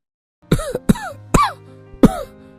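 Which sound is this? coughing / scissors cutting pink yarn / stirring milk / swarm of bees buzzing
coughing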